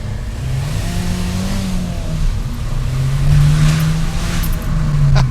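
An Abarth 595 Competizione pulls away hard from a standstill, its engine note climbing loud and close through the revs with a brief dip, as if between gears, before rising again.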